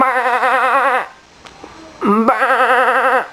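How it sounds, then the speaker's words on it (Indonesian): Two loud, close sheep bleats, each a wavering nasal cry about a second long, separated by a short pause with faint background noise. "Domba, suara domba"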